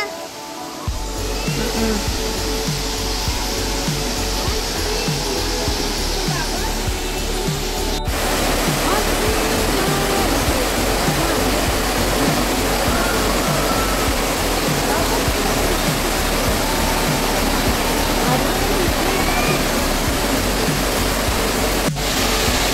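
Tinago Falls in Iligan City pours with a loud, steady, close roar of rushing water that fills the whole stretch without letting up.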